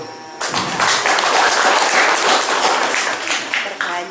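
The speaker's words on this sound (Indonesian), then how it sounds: "Kasih aplaus dong." Audience at a DPRD Lampung Tengah constituency meeting in Sukosari village bursting into applause, dense loud clapping starting abruptly and sustained for several seconds before thinning slightly.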